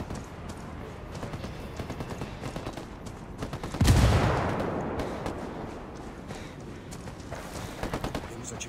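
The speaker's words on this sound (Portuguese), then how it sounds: "Os hostis estão atirando." Hostile gunfire in the video game Ghost Recon Wildlands crackles in rapid, scattered bursts of automatic fire, with a louder explosion-like boom midway that fades into a long rumbling tail before the shooting continues.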